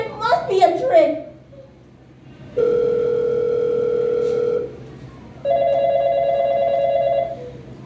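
On a school play stage, a telephone gives two long steady tones in succession after someone speaks briefly at the start, each tone clear and fairly loud, separated by a short pause.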